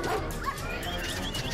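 A dog gives short yipping barks mixed with whimpers, fairly close and steady over a cluttered background.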